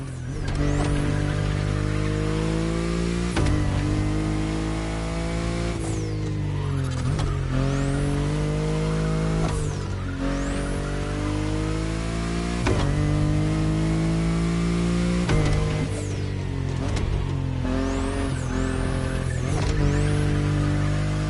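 A BMW i8 sports car drives with its engine revving, a loud, steady drone with repeated rising and falling pitch sweeps as it accelerates and eases off. No voices are heard.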